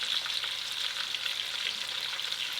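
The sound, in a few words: pork hock frying in a pan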